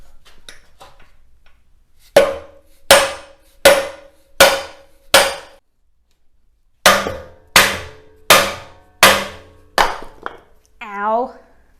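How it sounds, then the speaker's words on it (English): Repeated heavy metallic knocks from a 5-pound slide hammer driving out a rear suspension part on a BMW E24 635CSi, five sharp close blows in a steady rhythm, a pause, then five more. "So I brought out the 5-pound slide hammer"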